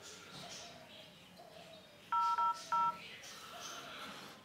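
Android 4.4 KitKat dialer keypad tones: three short, loud dual-pitch beeps in quick succession over quiet background hiss, the first two nearly joined and the third after a brief gap.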